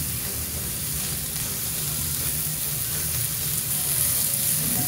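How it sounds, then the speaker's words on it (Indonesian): Mushroom sauce sautéing in a pan that still holds leftover steak fat hisses in an even, continuous sizzle, close and fairly loud and steady from start to finish. "Cukup kita tumis saja di sini."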